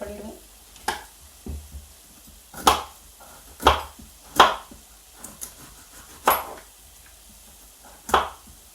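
A knife cutting through a tough vegetable in a home kitchen, heard as about seven sharp, separate chops against a board, spaced irregularly and close, with a quiet room between strikes.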